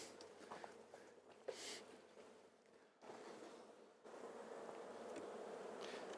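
Bees hum faintly around an open hive's upper brood box during an inspection, a soft continuous drone broken by a few brief handling knocks.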